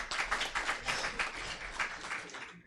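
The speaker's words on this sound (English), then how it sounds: "please welcome Ms. Hazumi and give her a big applause" Audience applause welcoming a guest speaker, Ms. Hazumi, at a visiting professor lecture in Yogyakarta; steady, dense clapping from a crowd fills the room, swelling and easing in waves before trailing off.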